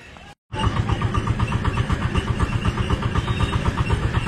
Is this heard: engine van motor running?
yes